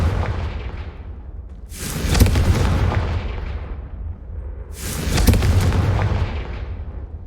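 Two Confringo spell blasts in Hogwarts Legacy, each a loud, close explosion with a sharp crack and a long rumbling decay, spaced about three seconds apart with no voices.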